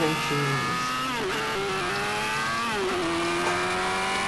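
New motorcycle accelerating hard at high speed, its engine whine climbing steadily in pitch through the gears, loud and close over continuous wind rush.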